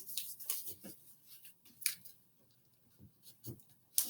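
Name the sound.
scissors cutting folded paper for a snowflake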